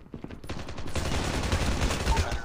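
Turret gunfire in Call of Duty Mobile, a rapid sustained burst of automatic shots rattling continuously for a couple of seconds after a brief lead-in.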